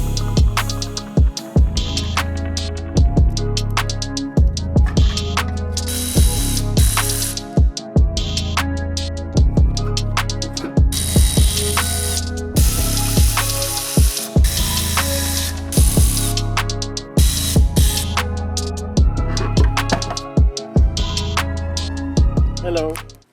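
Hand tools work on the valve cover of a Honda S2000 engine, producing loud, close, rapid ratchet clicking in repeated bursts, broken by short pauses and metallic knocks.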